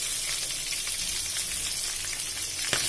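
Onion, green chillies and curry leaves frying in hot oil for semiya upma give a steady, dense sizzle that holds evenly throughout, with a brief sharper crackle near the end.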